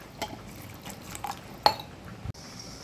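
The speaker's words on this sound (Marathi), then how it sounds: "आणि त्याच्यात थोडंसं पाणी टाकायचं." Water is poured into homemade carrot, beetroot and amla juice in a kitchen, a brief close liquid pour with a small clink of a vessel and a soft knock at the end.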